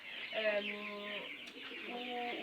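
Racing pigeons coo in two soft, low, throaty phrases, fairly close and quiet against a faint background.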